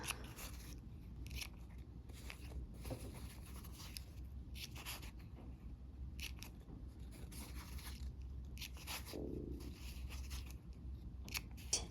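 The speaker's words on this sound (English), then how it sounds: "now we're gonna go ahead and clip off all of those corners" Scissors snipping the corners off quilt fabric squares, a quiet run of short, separate cuts in an irregular rhythm, close by in a still room, no talking.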